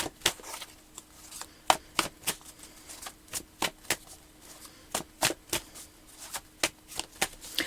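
Tarot cards riffled and shuffled repeatedly, crisp snapping bursts in an irregular rhythm, close and fairly quiet, with no talking.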